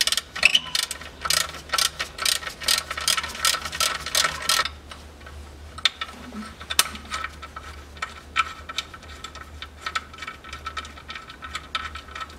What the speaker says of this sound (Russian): Ролик уже шумел.